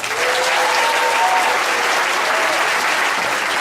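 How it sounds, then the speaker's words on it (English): An audience at a physics show breaks into steady, even applause, a loud continuous patter of many hands with a faint voice briefly audible beneath it. "you can applaud"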